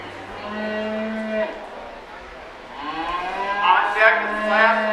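Beef and dairy cross feeder calves moo in a county fair junior beef show ring, with two long, loud bellowing calls close by, the second rising higher and more strained.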